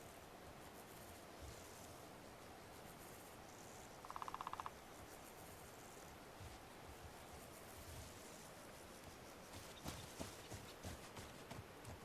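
Soft, steady video game horse hoof clip-clops at an even pace, faint and continuous under a low background hiss, in The Legend of Khiimori.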